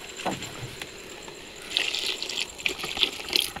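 Water is poured into a cooking pot at a night jungle campsite, with soft trickles at first and then a louder splashing gush toward the end, fairly close.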